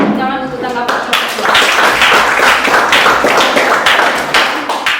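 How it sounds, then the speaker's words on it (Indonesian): A classroom of students claps together for a group's presentation, a brisk burst of many hands that starts after a brief voice and continues steadily, fairly loud and close. "Kasih tepuk tangan untuk tanggapan kelompok"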